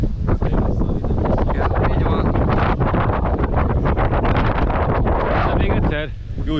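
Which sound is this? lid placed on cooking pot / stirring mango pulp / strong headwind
strong headwind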